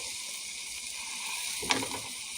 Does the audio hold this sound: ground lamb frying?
yes